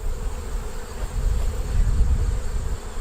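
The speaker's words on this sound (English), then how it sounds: "bees this time of year are a little testier than normal" Honeybees buzz steadily at an open hive during a late-season dearth, a dense, continuous low drone that swells slightly partway through, close and loud with no voices.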